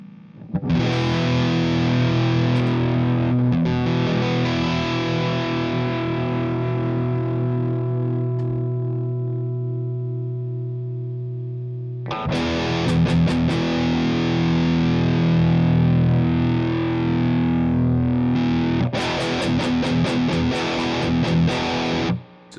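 Heavily distorted electric guitar plays thick sustained chords, pausing briefly midway before resuming with strummed chords and sharp picked accents, loud and close.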